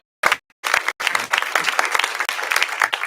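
A church congregation claps during a Sunday service: after a couple of brief sharp bursts, a full, continuous round of applause fills the room, loud and steady.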